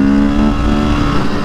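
A Honda CRF supermoto motorcycle engine pulls hard under acceleration, a steady, loud and close drone with a strong low-frequency hum throughout, and no voices.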